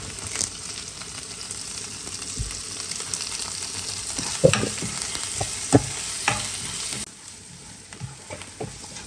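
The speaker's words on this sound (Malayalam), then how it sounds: "ഇനി നമുക്ക് ഇതിലേക്ക് കറിവേപ്പില ഇട്ട് കൊടുക്കാം" Curry leaves drop into shallots and garlic frying in oil, giving a steady close sizzle with crackles and a few sharp spatters and clinks from stirring, before the frying quiets near the end.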